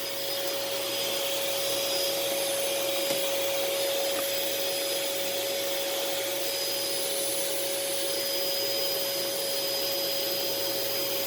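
A Sanyo SC30 vacuum cleaner runs steadily while vacuuming a living room, a loud continuous whooshing drone with a steady whine, close and unbroken throughout.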